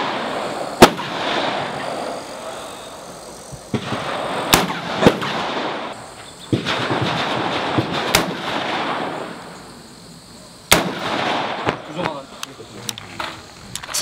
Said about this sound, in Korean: 사격 개시!